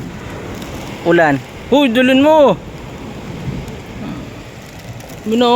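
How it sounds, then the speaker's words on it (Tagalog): Steady rain falls on a darkening day outdoors, a constant even hiss that fills the whole stretch. People talk over it now and then. "Oh, umuulan na."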